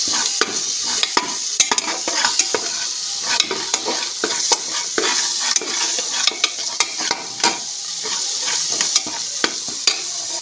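A spiced chickpea masala is stirred and sautéed in a pan over low heat, with a continuous soft sizzle broken by frequent sharp spoon scrapes and taps against the metal, close and uneven in rhythm.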